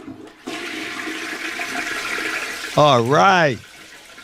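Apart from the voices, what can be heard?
toilet flush sound effect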